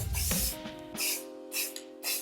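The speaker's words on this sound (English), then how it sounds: "Gives me a nice working area in which to spray my paint." A can of Rust-Oleum Sun Yellow spray paint hisses out in short, close bursts, about four quick sprays separated by brief pauses, as paint is misted onto a space-themed art piece.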